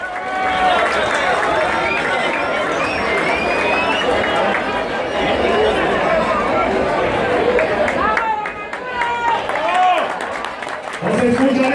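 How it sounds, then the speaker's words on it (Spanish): Sustained applause and crowd cheering greet the winners of an international sport-fishing tournament for snook in Catazajá, a dense roar of clapping and voices that dips briefly near the end. "Fuerte aplauso para recibirlos."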